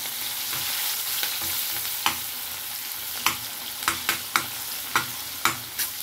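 Chopped onion and garlic fry in a pan with a steady sizzle, punctuated by repeated sharp spoon taps and scrapes as they are stirred.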